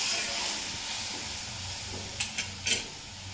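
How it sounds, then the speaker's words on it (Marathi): A watery mixture with chillies, asafoetida and turmeric heats toward a boil in a pan, a steady hiss and gentle sizzle, with a few sharp utensil clinks near the end. "त्याला चांगली छान अशी उकळी येऊ दे।"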